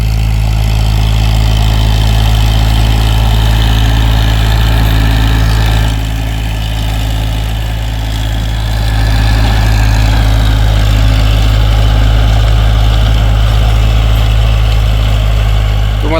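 A heavy diesel Eicher 551 tractor engine chugs steadily and loudly at low revs in low third gear, shredding cotton stalks, close up, with a brief dip in pitch midway before settling back.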